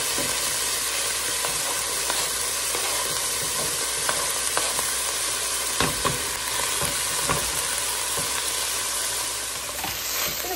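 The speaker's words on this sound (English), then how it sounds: "Into my olive oil, I'm going to place the celery, the carrots, and the onions." Celery, carrots and onions sizzle steadily in olive oil for a corn and potato chowder base, a dense continuous frying hiss with occasional stirring clicks and taps, close and fairly loud throughout.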